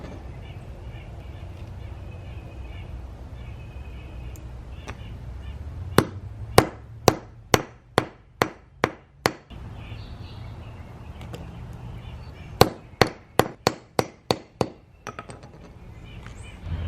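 Two bursts of sharp hammer blows, about six strikes each in an even rhythm, close and loud over quiet background.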